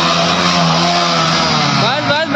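Swaraj 855 tractor engine revving during a pulling challenge against two Splendor motorbikes, a loud sustained drone with rising pitch near the end, with voices over it.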